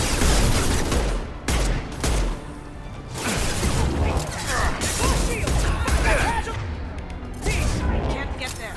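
Rapid bursts of gunfire from the Mass Effect 2 game, dense and continuous with loud crashes and mechanical clatter, layered over game dialogue and action noise.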